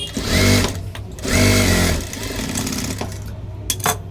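A sewing machine stitches a blouse hem in two loud bursts of steady whirring, followed by quieter, lighter running and a couple of sharp clicks at the end.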